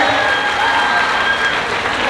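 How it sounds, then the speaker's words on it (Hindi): Dense, steady applause from a large audience at a Mithila Mahotsav poetry gathering in Madhubani, sustained and even throughout without pause. "एक बार आशीर्वाद की तालियां बजाइए।"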